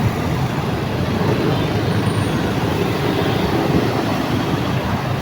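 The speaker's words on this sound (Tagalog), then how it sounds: "Grabe traffic dito sa kabila talaga oh." Dense, steady roadway noise in heavy traffic, a continuous broadband rumble of passing vehicles with no distinct events, heard close and loud throughout.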